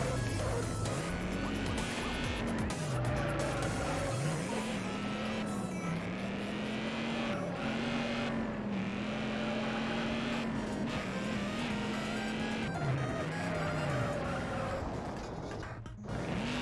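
A Mazda MX-5 being driven in a racing video game, with a steady engine drone whose pitch rises and falls over and over through gear changes at moderate volume.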